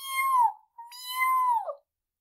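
A voice imitates kittens, giving two high, drawn-out mews with a short gap between them, close and clear with no other sound.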